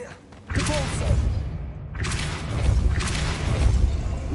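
A Depulso spell cast in the Hogwarts Legacy video game: a loud booming blast with a rumbling thud and crashing debris, followed by a second surge of rumble.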